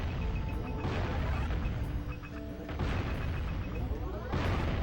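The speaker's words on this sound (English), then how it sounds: "this is a good cannon" Cannon fire in the Jak and Daxter video game: dense, steady game noise with a few heavier booming bursts, loud throughout.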